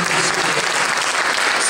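Audience applause for a young pianist at a Mozart piano sonata recital, a dense, steady wash of many hands clapping that fills the room throughout.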